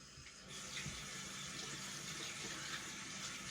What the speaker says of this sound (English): Sorry, I need to wash my hands.